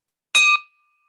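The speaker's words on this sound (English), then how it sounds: "thanks for letting me ring the bell" A small bell is struck once at an online Rotary club meeting, giving a bright, close ding that rings out briefly and fades, with no talking over it.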